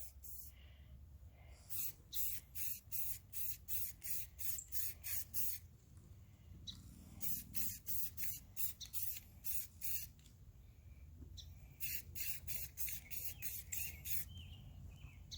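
Bursts of spray paint from an aerosol can hiss in short repeated blasts, roughly a dozen per run, outdoors in wind, with pauses between runs and faint background noise.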